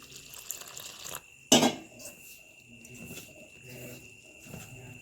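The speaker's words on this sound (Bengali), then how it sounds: "এবারে দিয়ে দিলাম জল" Water goes into a bowl of gram flour batter for eggplant fritters in a short, sharp splash, followed by a few light clinks of a bowl and utensil.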